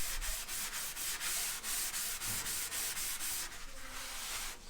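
Surface rust being sanded off metal, a steady rhythmic rasping stroke repeated about a dozen times, close and fairly quiet, with no voices.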